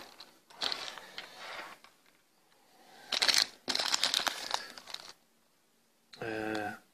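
A plastic bag holding white wire connectors and pins crinkles and rustles in several close bursts, with clicking handling noises between them and quiet gaps.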